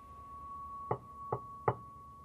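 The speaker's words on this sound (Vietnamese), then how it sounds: "cô khẽ đưa tay lên gõ cửa" Three soft knocks on a room door at a schoolyard, evenly spaced and fairly quiet, with a faint steady hum in the background and no voices.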